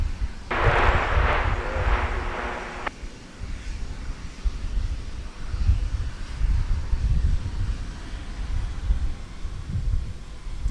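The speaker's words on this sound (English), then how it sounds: "Then the thrust reversers as well." A Condor heavy jet landing at Minneapolis–St. Paul airport, a loud low roar of engine thrust reversers swelling and rumbling steadily, with a brief bright tone near the start and wind-like noise throughout.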